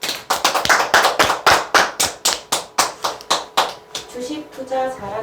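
Sharp, rhythmic clapping from an audience at a Korean telemarketing sales coaching session, close and loud in even unison beats, fading as a voice begins speaking at the end.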